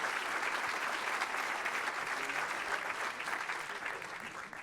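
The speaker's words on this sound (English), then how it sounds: "let's give our candidates who will appear tonight a round of applause" An audience at the Detroit mayoral debate gives the candidates a sustained round of applause, dense and even, tapering slightly toward the end.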